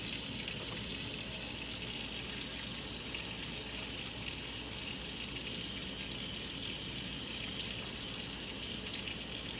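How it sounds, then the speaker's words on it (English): Tap water runs steadily into a sink while hands are washed, a continuous close hiss and splash for the whole stretch with no talk. "I'm going to wash my hands for at least 20 seconds"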